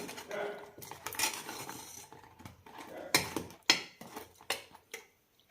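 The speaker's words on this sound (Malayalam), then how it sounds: "ഇടയ്ക്ക് ഇതേപോലെ ഒന്ന് ഇളക്കാം" A spoon stirs a thick honey candy (thaen mittayi) mixture in a metal pot, producing a series of close, sharp scraping clinks that grow more distinct and spaced out toward the end.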